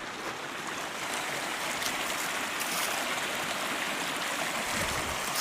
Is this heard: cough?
no